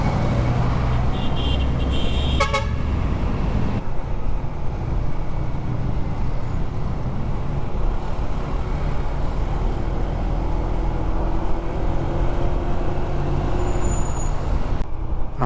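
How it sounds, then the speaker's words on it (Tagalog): Steady road traffic on the way down from Antipolo in the Philippines, a continuous low rumble of cars, buses and trucks heard from among the vehicles, with a brief hiss like an air brake early on. "Traffic pababa ng Antipolo"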